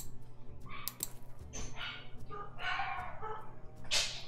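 Dogs bark at a household, sharp barks scattered through a few seconds at moderate distance, fairly quiet against the room, with no speech over them.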